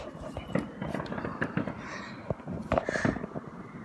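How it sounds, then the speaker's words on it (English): Fireworks going off on bonfire night, a run of sharp cracks and pops, some near and some farther away, over a steady outdoor background. "Do you see that thing shoot up in the air? Yeah. Oh, fireworks!"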